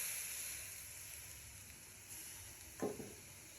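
Dal simmering on a stove, heard as a faint, steady hiss with a brief burst of stirring or bubbling near the end, no voices.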